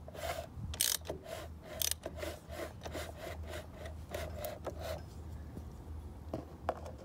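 Rhythmic scraping rub of an engine pulley against the timing cover on a Toyota 1JZ/2JZ, repeating strokes close up with faint mechanical clicks and a low hum beneath, no talk.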